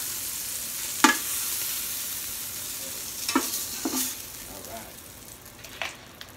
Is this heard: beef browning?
yes